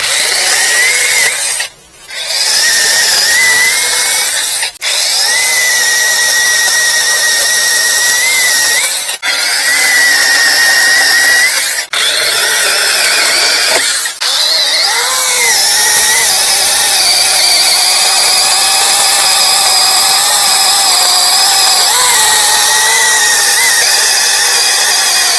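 Sainlogic 21 volt brushless mini chainsaw with a 6 inch cut biting through wood, a loud steady high whine that dips briefly a few times as the load changes, then settles into a continuous drone.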